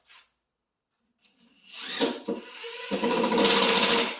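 A nail gun drives 1.25-inch nails into a cabinet under assembly, giving a few sharp close-up bursts followed by a sustained loud mechanical clatter and hiss.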